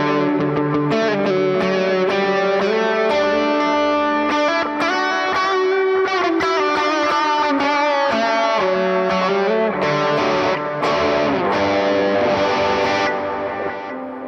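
Electric guitar played through a Moonshine overdrive pedal on the other channel of a V4, outdoors, giving a full, slightly gritty tone with strummed chords and picked notes, steady and fairly loud throughout.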